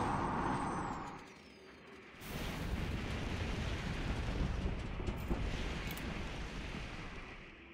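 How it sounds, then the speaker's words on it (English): A truck's air brake engaging in a driving video game set in a frozen wasteland, a sharp loud hiss of released air that settles into a sustained broadband rush. "Handbrake is on."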